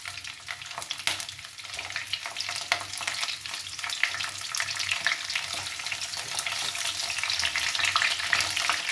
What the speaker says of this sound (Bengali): ফুলকপিটা ভাজা হোক ফুলকপিটা ভাজা হচ্ছে